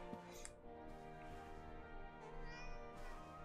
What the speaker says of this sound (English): I forgot there's cats here.